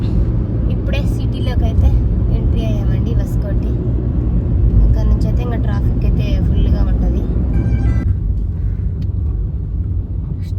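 Car moving through stop-and-go Bangalore city traffic, a steady loud engine and road rumble running throughout with a shift in tone near the end, while people talk over it.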